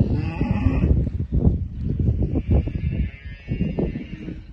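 A Gusolador cow at a livestock sale gives a series of close, loud, drawn-out calls, one after another over a busy, noisy background.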